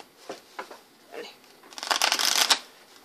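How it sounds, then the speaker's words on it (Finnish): A deck of playing cards is shuffled close by, a dense riffling burst building after a few soft handling taps, with brief speech early on. "Aloitetaan tää temppu sekoittamalla ja"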